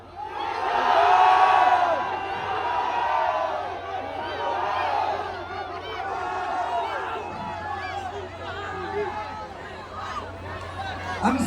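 Protest crowd at Liwasang Bonifacio shouting together, a loud dense mass of raised voices and whoops that swells early and then carries on steadily, rising again at the end.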